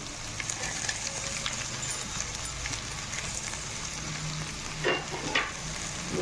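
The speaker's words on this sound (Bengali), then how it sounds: "আর এখানে চিংড়ি মাছ ভাজা আছে, চিংড়ি মাছ ভাজা দিয়ে দেবো।" Fried prawns sizzle in a pan of spiced masala, a constant close frying hiss broken by a few scraping stirs of the spoon, with no talk over it.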